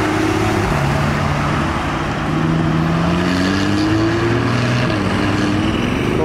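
Porsche 911 Targa, a 1990s 964-generation phase 1 fitted with Turbo wheels, passes close by with a steady, loud engine drone whose tone glides up and down for several seconds, with no talk over it.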